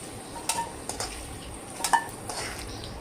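A metal utensil scraping and clinking against a pan as fried potatoes are lifted out, several sharp, brief knocks spread across a quiet, faintly sizzling background.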